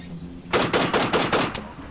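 Rapid burst of about six automatic gunshots from a PC war game, evenly spaced and punchy, fired close in a quick volley with no talk.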